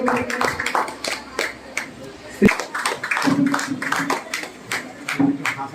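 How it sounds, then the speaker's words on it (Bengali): Audience applause at a school freshers' welcome ceremony for eleventh-grade students at an academy in Naoda, heard as scattered, uneven clapping with sharp taps throughout, a louder burst near the middle, and crowd chatter underneath. "জোরে হাততালি একটু"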